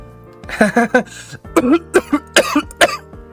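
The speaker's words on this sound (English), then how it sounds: "I cough every time I laugh" A burst of repeated short coughs in a quick, choppy series, close up, sounding tangled with laughter.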